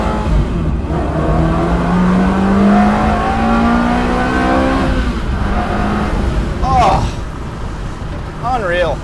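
Ferrari 360 V8 engine revs and accelerates hard, a loud rising howl that climbs through gears with brief shifts, heard from inside the car alongside road and wind noise.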